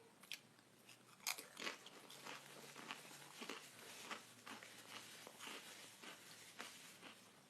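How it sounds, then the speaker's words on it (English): A person chews food close to the microphone, with crunchy bites and wet mouth sounds repeating steadily throughout, no talking. "Excuse my chewing, guys."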